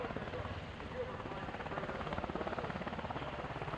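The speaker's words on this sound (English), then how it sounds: "he is holding that helicopter absolutely still" HH-60 Pave Hawk rescue helicopter holding a 20-foot hover, rotor chopping in a steady rapid beat at a distance, fairly faint, with voices talking underneath.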